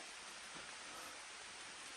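Steady rain falls in a deep forest, a dense, even broadband hiss that holds at a constant level throughout with no voices over it.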